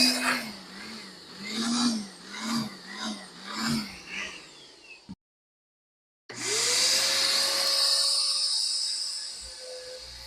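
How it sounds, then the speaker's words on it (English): A Ridgid 16-gallon shop vac hooked up for dust collection on a Delta table saw. After a pulsing, rhythmic noise and a short silence, the vac starts up and runs with a loud, steady whine. "use for dust collection on my table saw is this rigid 16-gallon shop vac"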